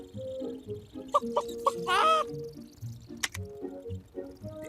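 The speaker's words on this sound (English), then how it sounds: "The Iron Chicken flaps up into the air and lands on top of the pile." The Iron Chicken clucks in a Clangers children's video game: a short run of bright, clipped clucks and a squawking flourish over soft music, with a high chime after it and no talk.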